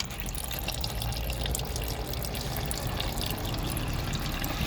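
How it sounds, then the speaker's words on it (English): Coolant drains from a Ford Triton 4.6 V8 engine during repair work, a steady close splashing and trickling of liquid that runs on without a break and with no talk. "I got some coolant draining now"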